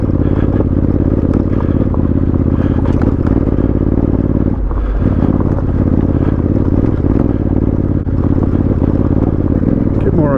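Honda CRF1100L motorcycle climbing a mountain trail off road, its engine chugging loud and steady throughout with rattles and scrapes from the ride, and a brief dip in the engine note near the middle.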